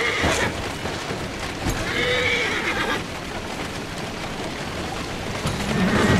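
A horse whinnies loudly and close in Assassin's Creed Syndicate, followed by softer snorts and hoof clops over a light patter like rain.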